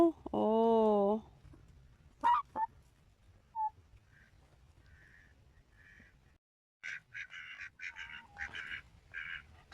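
Ducks quacking, including a domestic duck, in a backyard pen: a loud harmonic call near the start, then scattered short quacks and a busy stretch of chatter near the end, with a voice speaking briefly.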